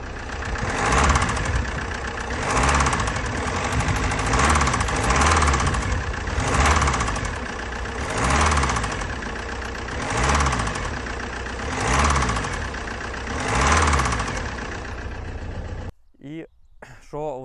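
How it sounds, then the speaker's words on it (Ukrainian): A 2010 Opel Insignia diesel engine idles with a rhythmic, heavy knocking that pulses every couple of seconds, loud and close, before cutting to brief other sounds. "оцей прекрасненький моторчик трошечки застукав"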